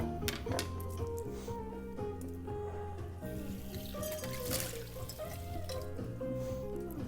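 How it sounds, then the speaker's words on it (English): Hot water runs into a sink to smooth rough edges, a steady splashing and trickling with faint drips, fairly quiet and with no talking. "I usually run it over some hot water inside the sink just to kind of smooth everything out."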